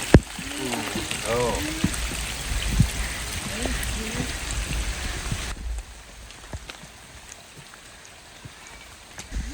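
Steady rain patters on a forest trail leading to Tad Wiman Thip waterfall in Bueng Kan during the rainy season. The even hiss is close and constant, with voices heard briefly early on before the rain continues alone.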